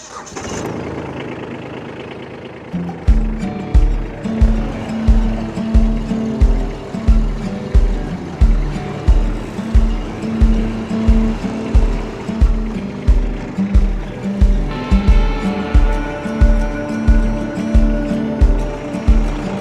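Kubota B2601 compact tractor engine running in low gear with four-wheel drive while grading dirt for a garden shed pad, a steady close diesel chug with rhythmic pulsing that builds after a quieter start and holds throughout.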